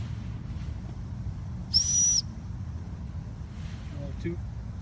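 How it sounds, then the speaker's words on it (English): A whistle is blown once, a short shrill high tone lasting about half a second over a steady low background rumble, with a faint brief noise near the end. "Blow the whistle."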